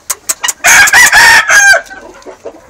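A chicken clucks and squawks loudly up close, a few short calls followed by a longer run of harsh, rising cackles that fade into quieter clucks.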